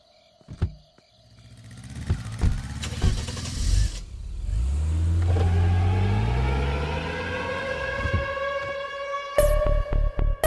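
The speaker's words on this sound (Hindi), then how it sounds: "कार निकाल।" A car engine cranks and starts, then revs and pulls away, its rising drone filling the middle of the clip before several sharp knocks near the end; no speech.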